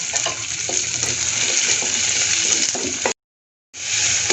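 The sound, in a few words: frying chopped onion and green chillies in oil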